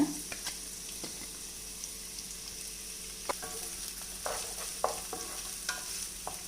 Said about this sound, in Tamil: வெங்காயத்துக்கு வறுக்கிறதுக்கு எண்ணெய் சூடாயிடுச்சு. நான் வெங்காயம் போட்டுக்கிறேன்.